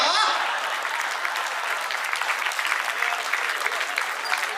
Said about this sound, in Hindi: तालियां कम है थोड़ी सी।